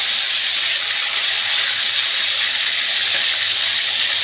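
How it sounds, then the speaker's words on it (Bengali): Chicken frying in white sesame oil in a pan gives a loud, steady sizzling hiss that continues unbroken and close throughout. "উল্টে পাল্টে একটু ভাজা মতন করে নেব"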